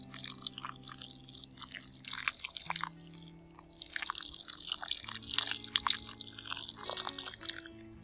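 Water trickles and drips out of a container pot of potatoes after watering, with soft wet splatters and patters up close while a low tone hums quietly beneath.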